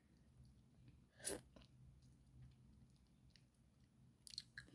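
Quiet, close chewing of a soft lychee-flavoured jelly snack, with one louder crunchy bite and a few small sticky mouth sounds in a quiet room.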